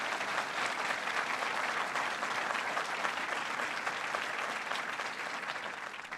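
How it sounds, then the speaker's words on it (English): Audience applauding at an education event in Oregon, a steady, dense wash of clapping that holds for several seconds before tapering slightly at the end. "That's worth applause."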